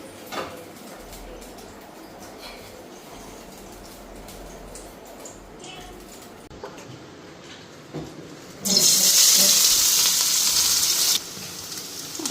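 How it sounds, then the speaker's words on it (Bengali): Onions hit hot oil in a home kitchen and burst into a loud, steady sizzle that holds for a couple of seconds before cutting off, after a stretch of quiet background noise. "পেঁয়াজটা ভাজা নেবো"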